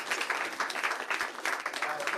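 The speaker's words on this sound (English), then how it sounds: "We'll do a short round of applause for Joel for pulling this off." An audience claps for presenter Joel at an agroforestry seminar, with a short, dense burst of applause that fills the whole moment.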